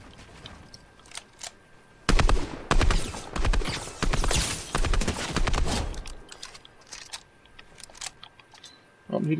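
Gunfire from players shooting close by in a game, with a dense burst of loud rapid shots over several seconds after quieter scattered pops, and voices talking around it.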